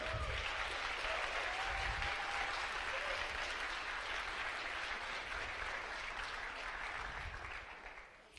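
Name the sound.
audience applause for team members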